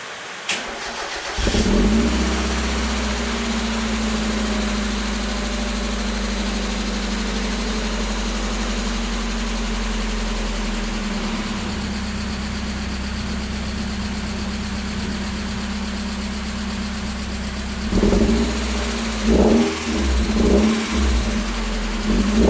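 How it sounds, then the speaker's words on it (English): A car engine cranks and fires up, then settles into a steady, loud idle with a droning exhaust tone, before a few sharp revs near the end. "I'll put a video up where we fire it up and you have a listen to what the exhaust tone was like"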